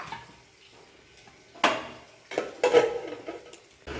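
A lid goes onto a pot of fried chop and fuluri in a home kitchen, with a few close metallic clinks and knocks and one sharper clatter, separated by quiet gaps.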